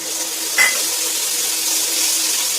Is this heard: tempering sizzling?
yes